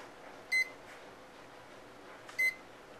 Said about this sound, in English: So let's push 2 hours on our timer,